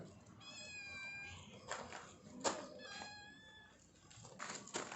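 A cat meows several times nearby, drawn-out plaintive calls spaced apart against a faint background hum.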